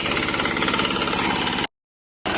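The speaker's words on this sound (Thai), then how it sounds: "นี่นะครับผมรถไถเจียว คนเดียวก็ทำงานได้" A two-wheel walking tractor engine chugs loudly and steadily while cutting grass, cuts out abruptly for about half a second, then starts running again.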